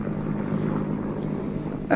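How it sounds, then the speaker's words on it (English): A low-flying Naval Training Station helicopter in an audio drama, heard as a steady rumbling drone that grows slightly louder near the end. "Oh, a helicopter from the Naval Training Station. It's not usual for them to fly so low."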